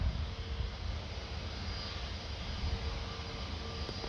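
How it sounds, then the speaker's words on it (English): An Airbus A320 airliner taxis toward the runway, its steady engine roar and broad low rumble continuing evenly throughout, loud and fairly close with no pauses. "Beautifully taxiing towards the runway here."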